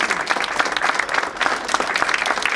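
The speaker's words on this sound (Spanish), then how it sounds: "te pido un fuerte aplauso para vos, bien merecido" An audience at a Buenos Aires provincial labour congress breaks into brisk, close applause, a continuous patter of many hands clapping with no break.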